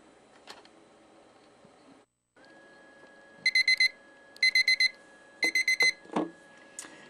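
A timer alarm goes off in three rapid bursts of sharp, high beeps over a faint steady tone in a quiet room, with no one talking.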